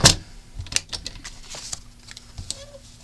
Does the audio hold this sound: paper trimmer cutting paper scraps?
yes